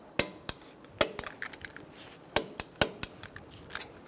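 Sharp metallic clicks and ratchet ticks ring out in irregular bursts as a torque wrench tightens the front brake caliper bolts on a 2013-2022 Buick Encore, close and crisp over a quiet background.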